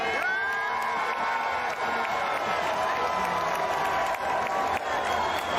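A crowd applauding and cheering, with a steady wash of clapping and scattered whoops that holds at moderate loudness for several seconds, alone without talk over it.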